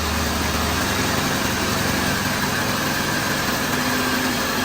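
Rebuilt SK330 excavator engine running on a test bench at raised speed, a loud steady diesel roar with constant vibration throughout, a voice faintly audible beneath the noise.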